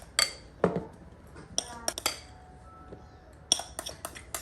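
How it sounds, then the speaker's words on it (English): A butter knife scraping candle frosting into a cup, with several sharp metallic clinks and taps against the cup and softer scrapes between them, close and moderately loud, with faint background hiss. "butter knife it on into this cup, into the piping bag"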